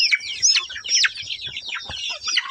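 A flock of chickens clucks and chatters busily nearby, many overlapping calls with no pause.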